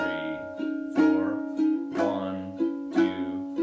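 Ukulele strumming the verse chords of a song, four clear strums ringing in steady succession, close and alone.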